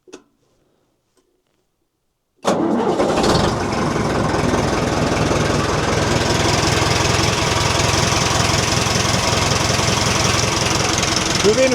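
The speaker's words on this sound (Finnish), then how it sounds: "Hyvin hyrskyttää eikä venttiilit naputa." An engine fires up after a valve adjustment, following a few faint clicks. It catches abruptly and settles into a steady, loud idle with a fine ticking texture that runs uninterrupted to the end.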